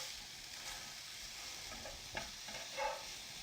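Minced steak burgers sizzle gently in a pan, a soft, steady frying hiss with a few faint pops and crackles rising briefly toward the end, no voices present.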